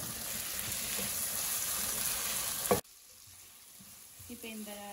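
Chopped cabbage stir-frying in a hot pan, a loud continuous sizzle that cuts off abruptly partway, leaving a quiet background with faint tonal sounds.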